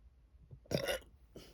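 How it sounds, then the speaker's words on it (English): A single short burp after drinking soda, close and fairly quiet, followed by a smaller throaty trailing sound. "The burp's trying to come back"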